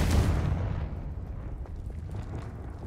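A Confringo spell in Hogwarts Legacy sets off a loud, close explosion, a heavy boom that rumbles and crackles away over a few seconds.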